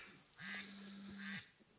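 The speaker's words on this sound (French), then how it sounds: "Donc j'entends le canard" A single short duck quack, one nasal honk of about one second that stands out clearly against a quiet room background, with no talk.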